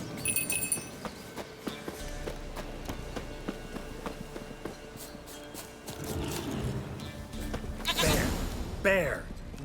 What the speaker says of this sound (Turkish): Keçi dikkatin dağılmasın. Gel buraya.